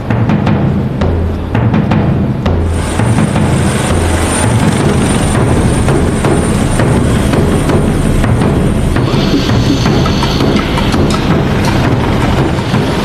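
A helicopter flies through the night toward a large moving ship, its loud, steady rotor and engine drone holding continuously, close and alone with no talk.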